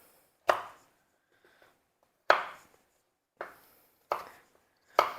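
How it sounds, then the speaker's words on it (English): A knife chops peeled sweet potatoes on a cutting board, five sharp, separate thuds at uneven intervals with quiet pauses between them, close and clear with no talking. "So we're going to get this chopped up real quick."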